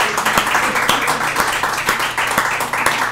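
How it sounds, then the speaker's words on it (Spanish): Comedy show audience at Rubens Pub in Aguascalientes clapping, a loud close patter with rhythmic accented beats roughly every half second, as if many clap in time. "Sí, es un aplauso."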